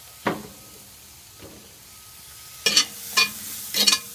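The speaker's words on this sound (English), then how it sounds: "we're going to add some olive oil, maybe a tablespoon" Olive oil hits a hot pan during cooking, giving several short sizzling bursts with pauses between them, close and fairly loud, with no talking.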